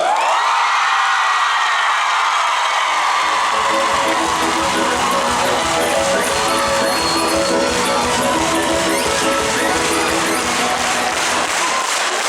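A theater audience, including people up in the balconies, applauds loudly for the third contestant at a Chuvash dance competition. The sustained clapping swells and carries cheers and whoops for the full stretch.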